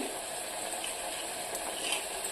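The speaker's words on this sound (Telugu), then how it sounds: "ఆలు కూడా కొంచెం ఆయిల్లో ఫ్రై అయ్యే వరకు ఒక 1 మినిట్ అలా ఉంచండి." Potato pieces frying in oil in a pan for an Indian vankaya aloo curry, a steady close sizzle with faint crackle throughout and no voices.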